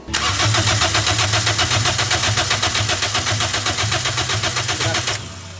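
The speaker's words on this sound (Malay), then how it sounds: "Kita crank" Toyota Vios NCP42 engine cranking without catching, a loud, close, steady rhythmic starter churn pulsing evenly for about five seconds before stopping, with no voices.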